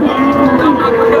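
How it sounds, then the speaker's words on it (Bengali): A Friesian dairy cow at a cattle market moos close by in a single loud, sustained, low call. "ফ্রিজিয়ান জাতের গাভী।"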